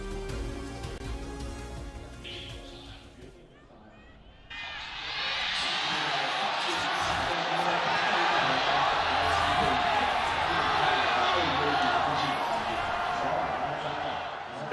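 A large esports arena crowd at the LPL Spring Finals roars and cheers loudly and steadily after a quieter stretch with a voice talking over background noise.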